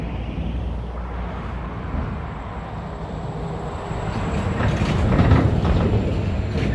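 A heavy lorry approaches and passes on a road, a broad rumbling roar that grows steadily louder and peaks near the end, heard alone without talk.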